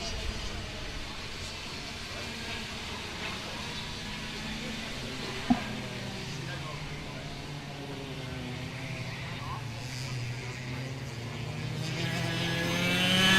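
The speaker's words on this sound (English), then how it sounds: "Very impressive to watch these teeny tiny little machines rocket around this racetrack." Small racing go-karts drive laps of the Whiteland Raceway Park track during a club race, their engines a steady droning whine that swells toward the end, with a commentator talking over it.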